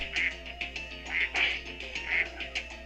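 Ducks quacking in the video game Spyro 2: Ripto's Rage, a quick series of nasal, cartoonish quacks in an uneven rhythm over a low background hum.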